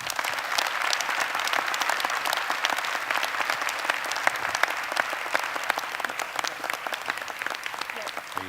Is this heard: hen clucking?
no